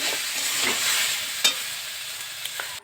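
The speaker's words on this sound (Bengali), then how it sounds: "একটু গুঁড়ো লঙ্কা দিয়ে আর একটু কষিয়ে নেব" Spices and chili powder sautéing in a pan for a home-cooked dish, giving a steady soft sizzle with light stirring scrapes and a couple of sharp clinks, close and alone with no talk.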